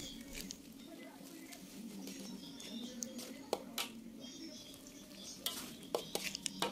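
Coconut milk, salt and powdered stock being stirred in a cooking pot, with soft continuous scraping and light clinks of a utensil against the pot, several sharper taps near the end.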